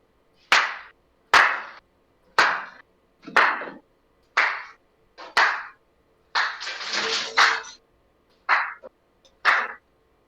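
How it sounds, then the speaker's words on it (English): Slow, deliberate hand claps used at a zoo to call animals in for feeding, about nine sharp claps spaced roughly a second apart with a brief burst of rustling noise midway, no talking. "We do like a slow clap thing."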